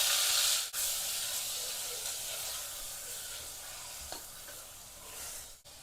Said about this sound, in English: On a medium to high flame, just saute the mutton for a couple of minutes.